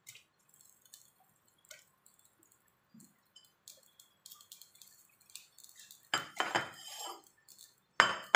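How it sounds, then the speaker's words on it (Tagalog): Winter melon soup in a cooking pot, with light utensil clinks and pot taps at first, then a louder burst of metallic clatter and scraping as a lid settles on the pot, ending with a final sharp clank. "Haluin natin siya. Takpan natin."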